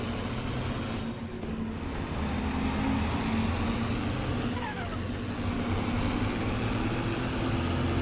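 A farm vehicle engine in Farming Simulator roars steadily at full speed, a constant loud drone with a thin whining tone above it, continuing unbroken for several seconds with no speech.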